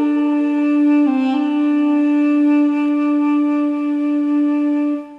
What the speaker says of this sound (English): It's an Armenian ethnic flute,